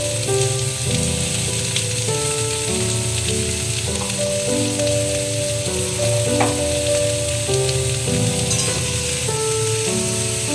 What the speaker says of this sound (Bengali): হলুদ দিয়ে একটু ভাজা ভাজা করে নেবো